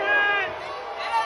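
A large crowd booing at a political rally, a dense sustained roar of many voices swelling and dipping over a short stretch, loud and close with no single voice standing out.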